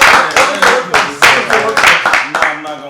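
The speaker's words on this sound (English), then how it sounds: "Let's clap for that" A few people clap together in a room, a loud, close run of sharp, uneven hand claps lasting a few seconds.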